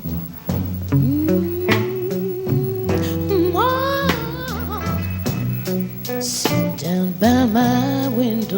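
A recording plays, a strained bluesy female vocal with sliding, wavering notes over a sustained band accompaniment, heard without talk.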